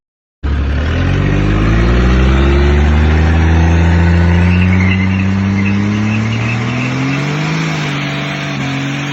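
A Can-Am X3 side-by-side roars through a burnout inside a shop, its engine screaming at high, sustained revs with rising and falling pitch, loud and close from start to finish with no talking.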